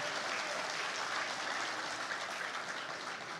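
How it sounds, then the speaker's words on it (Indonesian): Dense, sustained applause from a large gathering for everyone attending, an even roar of clapping with no pauses. "Tepuk tangan dulu untuk semua yang hadir di sini."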